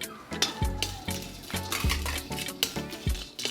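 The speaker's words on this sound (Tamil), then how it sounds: "எல்லாமே லேசாக வாசனை வர வரைக்கும் வறுத்துக்கலாம்" Whole cloves, star anise and mace dry-roasting in a pan for a chicken masala spice mix, with repeated scraping stirs and light clinks of a spoon against metal, moderately close and without talk.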